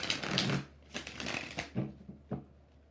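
A deck of tarot cards is shuffled by hand, with several rapid, papery riffling bursts in quick succession, close and without talk.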